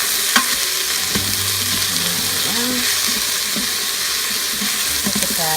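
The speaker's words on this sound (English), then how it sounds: "Here are my mushrooms. They're going to go in now." Mushrooms hit a hot Instant Pot and set off a steady, loud sizzle and crackle that continues throughout, with faint talk in the background.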